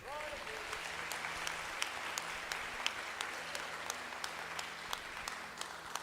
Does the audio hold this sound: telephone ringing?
no